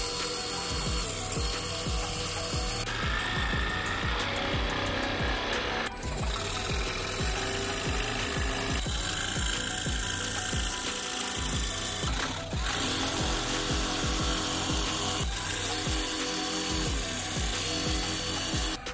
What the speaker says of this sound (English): I happen to have a jigsaw and some other tools, so I'm going to use that to cut it out.